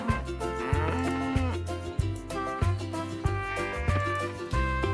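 A cow moos on a farm in the video game Coral Island, several short lowing calls set against steady, busy game music that stays loud throughout.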